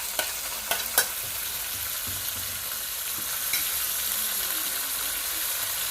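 Carrots are stirred into a pan of frying pilau, a few clinks of a spoon against the pot at first, then a steady, soft sizzle with no voices.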